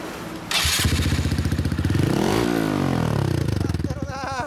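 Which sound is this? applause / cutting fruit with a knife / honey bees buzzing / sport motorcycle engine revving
sport motorcycle engine revving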